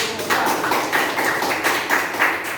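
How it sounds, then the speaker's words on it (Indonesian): A classroom audience applauds with clapping that rises and falls in quick, regular waves, steady and fairly close. "Kita beri aplaus dulu."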